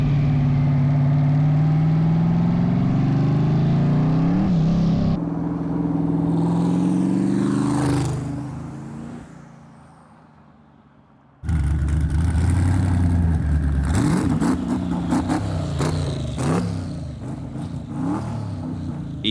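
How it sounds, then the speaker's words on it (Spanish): A modified Corvette C6 Grand Sport with a twin-turbo setup rumbles loudly out of a workshop, its deep engine note rising and revving before a brief drop-off, then returning with strong, choppy acceleration. "el Grand Sport al fin manejándose por primera vez saliendo del taller"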